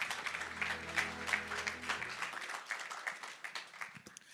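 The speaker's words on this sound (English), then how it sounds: "Round of applause." Audience applauding at the closing ceremony of the Transform Africa Summit 2023, a moderately loud patter of clapping that starts under a low sustained tone and thins out over about four seconds.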